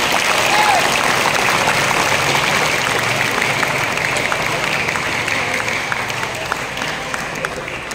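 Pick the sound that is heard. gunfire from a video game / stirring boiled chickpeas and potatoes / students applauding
students applauding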